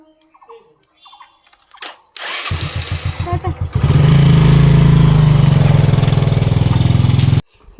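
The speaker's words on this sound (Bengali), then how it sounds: "বাবা বাইক চালাচ্ছে আমার" A motorcycle engine sputters through a few cranking attempts, then catches and runs loudly at a steady, throbbing idle before cutting off.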